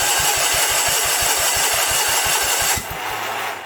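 A 1977 Sears 16/6 garden tractor engine runs with a steady, rapid thumping close by. Near the end the engine note drops slightly as the throttle settles.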